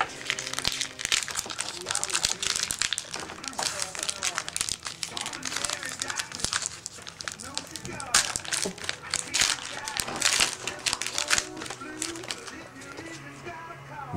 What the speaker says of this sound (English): These packs get harder to rip as you sort of get through